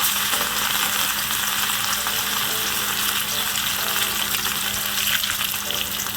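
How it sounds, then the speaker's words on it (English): Fish fries in hot oil, giving a loud, steady sizzle and crackle that runs unbroken from start to finish with no talking. "Place the fish in the oil to fry."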